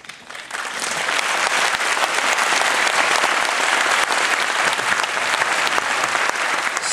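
Lecture audience at an anti-nuclear talk in Tsukuba applauding to affirm a joint declaration, a broad sustained clapping that swells in after a brief quiet start and stays loud to the end.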